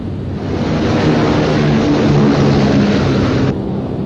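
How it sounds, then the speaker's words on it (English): Several Royal Air Force bombers, loaded with high explosive and incendiary bombs, take off for a 1943 night raid on Hamburg, a loud steady roar of propeller engines that swells and holds, with no talk. "In July 1943, Royal Air Force planes loaded with high explosive and incendiary bombs took off for Hamburg."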